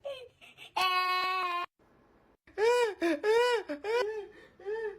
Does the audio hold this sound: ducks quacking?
no